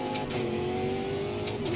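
A race car engine in a sim racing game holds a steady, loud, high drone, with a slight pitch sweep suggesting a shift or a lift off the throttle.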